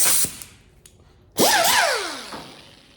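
An air die grinder grinds weld tops during rust repair on an International Loadstar truck. A brief sharp burst comes first, then a loud whining spin-up that wavers in pitch and slowly winds down.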